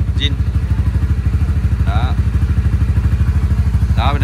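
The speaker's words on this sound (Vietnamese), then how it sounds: "bây giờ mình sẽ nổ máy" A Honda Winner X motorcycle engine idles close by with a steady, rapid thumping pulse. A voice speaks briefly over it.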